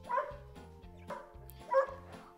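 A dog barks a few times in quick succession, close and fairly quiet over a soft melodic backing, with no talk.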